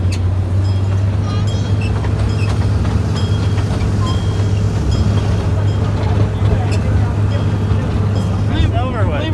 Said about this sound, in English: We found a train museum, so we stopped and went for a train ride